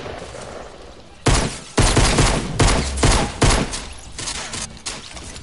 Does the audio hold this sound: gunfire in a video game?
yes